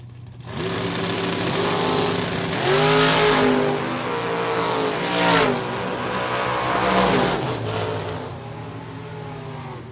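A Camaro Roadster drag racing car revs hard and accelerates at a drag strip, a loud close engine snarl with rising pitch sweeps and gear changes over about nine seconds, alone without talk.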